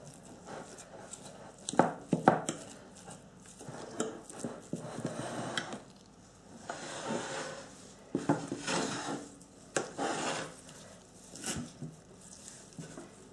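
Metal fork strikes and scrapes against a bowl while fatty cheese is mashed for börek filling. There are irregular clinks and scraping bursts, close and moderately quiet, with short pauses and no talking.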